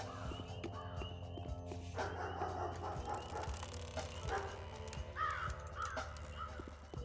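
A raven caws in the video game Pathologic, several short harsh calls over a low ambient game soundscape with footsteps and faint thuds, fairly quiet overall.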